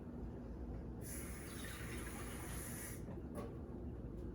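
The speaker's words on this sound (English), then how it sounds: "I'm going to go ahead and put half a cup of water into it" Half a cup of water poured from a measuring cup makes a steady hissing splash lasting about two seconds, with a faint trickle afterward over a quiet room background.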